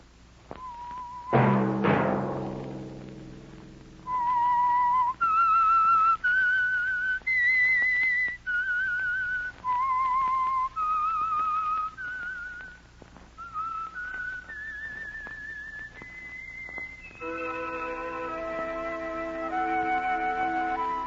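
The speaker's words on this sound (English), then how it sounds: "Let that whistle be your signal for the Signal Oil program, The Whistler, each Sunday night at this same time." A lone whistler performs the eerie signature theme of the radio mystery program The Whistler, a sequence of clear sustained notes rising and falling, opening after a brief loud orchestral stab, with a few accompanying instrumental notes near the end.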